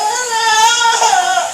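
A little boy's high, voiced vocalizing carries steadily through the whole short stretch from the background of a kitchen where butter cooks for stuffed bell peppers, with no talking over it.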